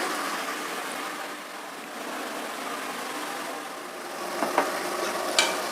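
Avarekalu beans fry in a pan with a loud, continuous sizzle and crackle, plus a couple of sharp clicks near the end.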